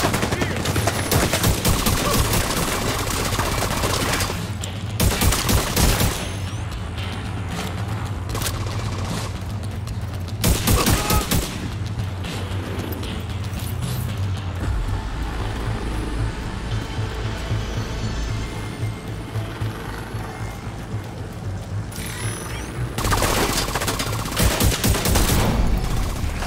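Sustained gunfire in a tactical shooter game at a stronghold, with loud bursts of automatic fire opening the scene, recurring heavy volleys throughout, and a dense rumble of weapons and engines between them.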